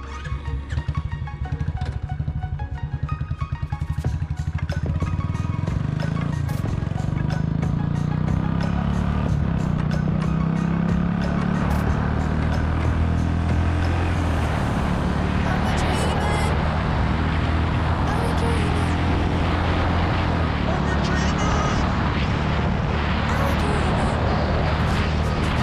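A Royal Enfield Bullet 350 classic touring motorcycle at full throttle near its top speed, with a loud, steady engine drone and rushing wind that build after a brief start and hold throughout.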